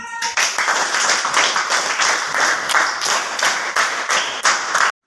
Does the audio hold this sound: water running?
no